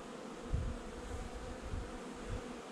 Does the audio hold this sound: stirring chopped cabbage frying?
no